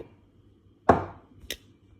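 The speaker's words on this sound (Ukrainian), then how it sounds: "Зараз я їх почищу і поріжу кубиками." Chopping peeled apples into cubes with a knife on a board: two crisp, separate chops in an otherwise quiet kitchen, the first louder and fuller, the second a sharper tap about half a second later.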